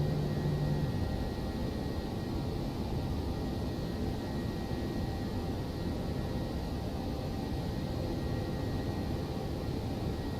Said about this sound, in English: Aircraft is still picking up speed.